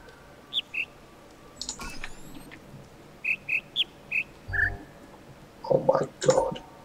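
Short chirping calls in a puzzle video game, set in jungle, monastery, swamp and colour house levels: a run of brief high tweets in small groups, a lower chirp, then a louder burst of twittering near the end.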